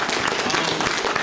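A crowd at a black belt ceremony claps and cheers loudly for newly promoted students, a dense, continuous wash of applause throughout.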